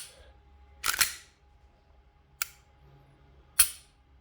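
Three sharp, close mechanical clicks from a Glock Gen 5 pistol fitted with a Delta performance trigger, the first a doubled snap and two lighter ones following about a second apart, in an otherwise quiet room.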